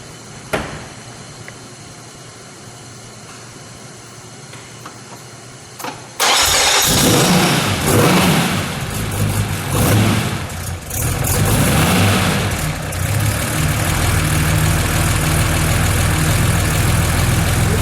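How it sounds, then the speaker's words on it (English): After a quiet stretch, a carbureted 1961 Aston Martin DB4 GT Continuation engine cranks and catches, then settles into a loud, lumpy idle with a few sharp revs rising and falling. "I want to hear it idle, please, and then we'll give it a little rev or two."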